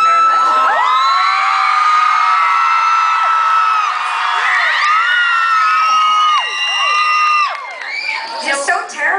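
A concert crowd at a show at The Glasshouse screams and cheers loudly and continuously, high shrieks and whoops layered into a dense roar that dips briefly and then rises again.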